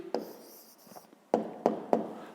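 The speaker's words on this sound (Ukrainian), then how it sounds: "Пишемо відповідь." A pen writes out a maths exercise answer on paper, a few short scratchy strokes and taps spaced irregularly, close and quiet, with no talk.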